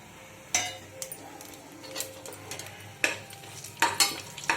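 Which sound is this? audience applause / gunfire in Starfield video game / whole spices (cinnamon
whole spices (cinnamon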